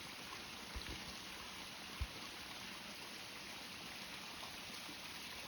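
A shallow stream runs steadily where lambs drink, a continuous soft hiss of flowing water with a couple of faint knocks, distant and low in level.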